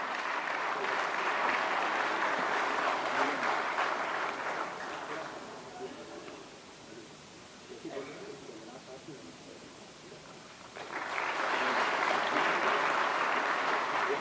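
Loud applause from an audience at a ceremony where a dignitary is honored with a shawl and memento, swelling, easing to a lower patter mid-way, then surging back to full strength.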